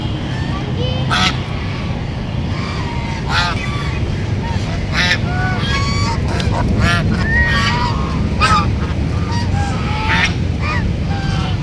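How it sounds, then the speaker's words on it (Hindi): Ducks and geese honk and quack repeatedly at a park pond, with calls overlapping against a dense, steady background of crowd chatter and nearby voices throughout. "डक्स भी बहुत प्यारी है ना। ये एक डक हमारे सामने खड़ी"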